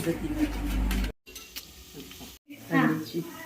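Egg bhaji cooking in a pan with a steady sizzle and stirring scrapes, broken by two brief silent gaps, then a louder burst of frying and stirring.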